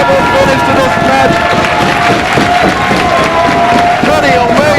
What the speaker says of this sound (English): This crowd is going berserk. They are going bananas.